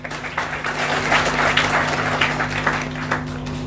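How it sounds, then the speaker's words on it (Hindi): An audience applauds its mentors indoors, a steady wash of many hands clapping at once under an electrical hum, sustained throughout with no break. "मेरे सभी मेंटर्स के लिए एक जोरदार ताली।"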